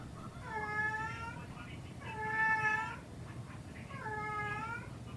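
A cat meows three times in long, drawn-out complaining cries, each rising then falling, with short pauses between, fairly close and clear.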